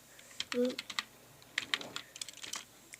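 Keys clatter on a computer keyboard as a command is typed, a quiet irregular run of close, sharp clicks in short bursts, with a brief soft tone near the start.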